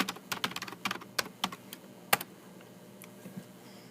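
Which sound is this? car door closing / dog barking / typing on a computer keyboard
typing on a computer keyboard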